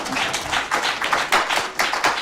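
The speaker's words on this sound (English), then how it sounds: "Please give a round of applause to Mr." Studio audience clapping for a guest on a TV talk show, a steady patter of many hands in fairly close, lively bursts with no talking over it.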